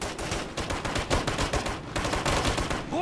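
Gunfire in the Operation Flashpoint Red River military shooter game: dense rapid bursts of automatic rifle fire mixed with overlapping shots, loud and sustained, with a brief pause before another volley.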